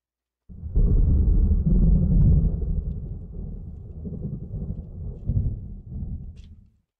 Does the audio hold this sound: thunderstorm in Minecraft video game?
yes